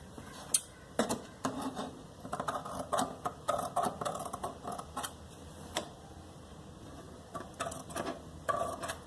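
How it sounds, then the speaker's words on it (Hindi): Scissors snip through fabric that has buckram pressed onto it, a run of sharp, irregular close-up clicks and crunches with brief pauses. "अब हम थोड़ा सा कपड़ा छोड़ के साइड से इसको काट लेंगे।"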